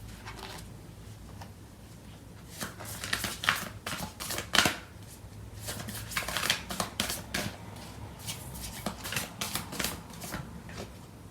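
Tarot cards are shuffled by hand in a quiet room, making soft, irregular riffling and flicking bursts that come close together over several seconds, with no voice heard.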